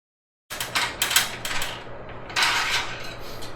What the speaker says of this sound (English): Use the supplied mounting tool to tighten the screws